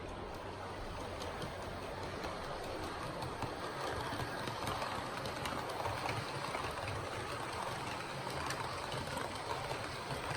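A Hornby Class 43 HST Intercity 125 model train runs along a model railway with a steady, even rumble and faint track clatter, continuous and fairly quiet with no talk.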